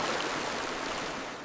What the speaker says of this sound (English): They form a living bridge across the churning brown torrent.